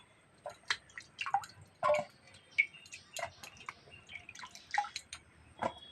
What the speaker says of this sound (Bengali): এবার জলে ধুয়ে নেবো